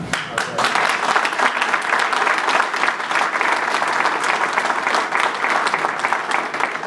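Loud, sustained applause from an audience at an airport open house, dense clapping holding steady throughout with a few voices mixed in.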